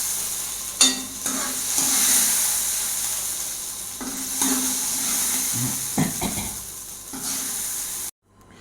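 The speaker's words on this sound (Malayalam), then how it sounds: "ഇനി നമുക്കിത് ഈ കറിയിലേക്ക് ഇട്ട് കൊടുക്കാം." Roasted coconut stirred into a Kerala jackfruit and red cowpea erissery curry, steady close sizzling with repeated scraping strokes of a spoon against the pan and a few thicker bubbling stirs, no speech.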